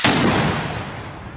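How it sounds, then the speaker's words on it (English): A single rifle shot cracks out during a military drill, a sharp close blast followed by a rolling echo that fades over about a second. "It almost seemed like when the rifle went off"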